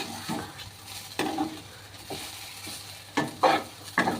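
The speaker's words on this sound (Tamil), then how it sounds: "நல்லா அந்த தண்ணி தெளிக்கும் போது சத்தம் வருது இல்லையா" Sprinkled water hitting a hot frying pan of beetroot stir-fry gives soft bursts of sizzling, mixed with the scrape and clatter of stirring, in several irregular hits close by.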